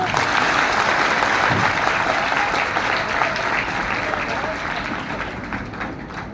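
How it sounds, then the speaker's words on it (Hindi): Audience applause for a patriotic Hindi poetry recitation about Chandrashekhar Azad in Madhya Pradesh, a dense, steady wash of many clapping hands that stays loud throughout and eases slightly toward the end. "तालियां बजाते रहा करो।"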